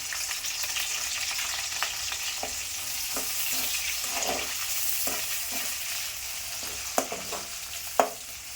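Chopped onion sizzles steadily in hot oil with garlic and mustard seeds for a tempering, with occasional soft scrapes and taps of a stirring spoon against the pan, close and continuous.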